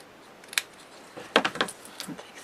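Scissors snip off excess paper on a yearbook memory album page, a few quick close crisp cuts in a short burst with quiet pauses around them.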